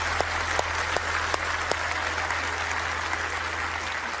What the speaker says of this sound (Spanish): ¿Alguien quiere levantar ese aplauso a Él?